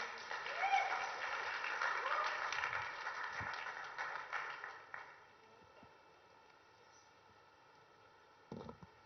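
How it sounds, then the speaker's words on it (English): An audience at a conference session breaks into applause, a moderate spread of clapping with some voices that lasts about five seconds, then dies away into near silence before a brief thump at the end. "Can we have a round of applause, please?"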